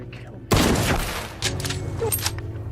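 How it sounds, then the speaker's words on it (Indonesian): A loud warning gunshot cracks out suddenly near someone's feet, followed by a second, smaller bang and some rattling clatter. "Namun John memberikan tembakan peringatan dekat ke arah kaki Ben"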